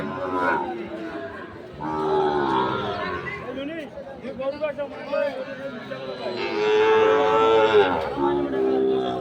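Cattle moo repeatedly at the Ambari cattle market, low drawn-out calls rising over a busy hum of crowd chatter nearby.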